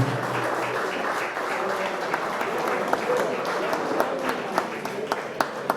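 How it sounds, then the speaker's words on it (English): Crowd applause at a Hall of Honor induction ceremony for an inducted team, a broad, even roar of many people clapping that carries on steadily, with a few sharper claps near the end. "Let's give this team a big round of applause on their induction of the team as a Hall of Honor."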